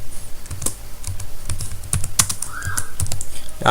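Typing on a computer keyboard while entering website text, a steady run of close, crisp key clicks at an uneven rhythm with a few louder taps.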